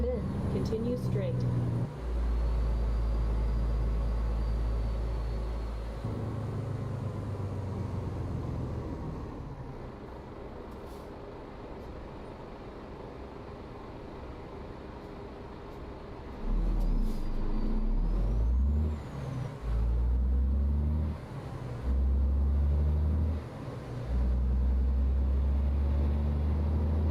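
A Western Star 49X truck in American Truck Simulator, with a DD16 engine of 600 horsepower and an 18-speed transmission, drones loudly and steadily, dropping in level midway before pulsing again, with an air-brake hiss and occasional talk over it.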